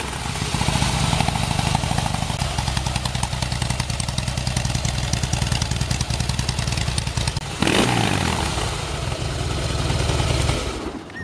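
A 2012 Harley-Davidson Heritage Softail Classic with a 103 engine idles steadily with a deep, loping rumble, loud and close, then blips once near the end before cutting off.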